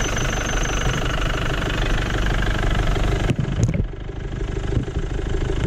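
A motorhome's diesel engine idles steadily after a remote start, a continuous low rumbling with a faint knocking pulse, close and loud, with a brief dip near the end.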